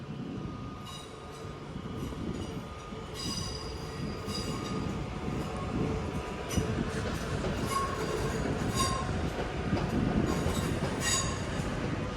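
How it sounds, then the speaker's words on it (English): A Class 323 electric train from Hadfield rolls into Manchester Piccadilly to terminate, a steady rumble of wheels on rails with repeated high metallic squeals from the wheels as it slows, fairly loud and continuous. "Got a 323 terminating in now from Hadfield."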